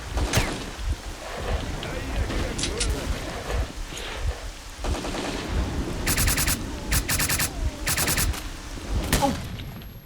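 Bursts of rapid gunfire in S.T.A.L.K.E.R.: Clear Sky crackle in short volleys, with single shots scattered between them over a busy, rumbling background.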